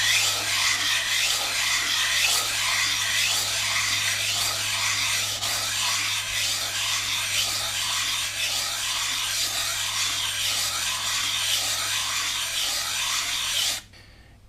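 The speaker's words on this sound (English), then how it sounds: "take our puck and work it in figure eights on our sandpaper and flat surface" A Lansky puck sharpener is rubbed in figure-eight strokes across sandpaper on a flat surface, making a steady, close, continuous abrasive rasp that runs unbroken for about fourteen seconds and then stops abruptly.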